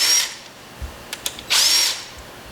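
A power drill or driver runs in two short bursts, close and loud, with a few light clicks between, while removing the clutch cover screws on an IAME X30 kart engine.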